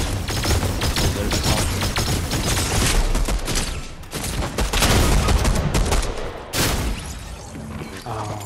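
Dense, continuous video game gunfire rattles loudly for several seconds, with rapid overlapping shots and bursts that briefly thin out before resuming.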